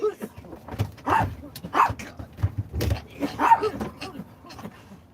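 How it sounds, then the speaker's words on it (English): Dog barking and yipping in repeated short bursts, close and moderately loud, with whimpering and some human voice mixed in between the barks. "Crazy dog."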